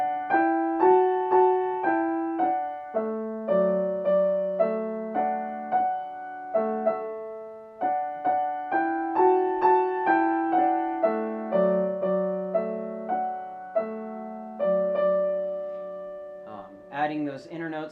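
Piano playing the Ode to Joy melody with a left-hand harmony line underneath, steady moderate-tempo notes, clear and close, ending with a brief faint clatter.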